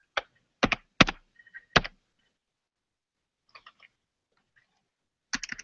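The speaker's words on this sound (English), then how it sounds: "Awesome hard typer there, Brian." Hard, heavy typing on a computer keyboard: a few loud, sharp key strikes in a quick cluster, a quiet gap with faint light taps, then another burst of clacks, close and alone.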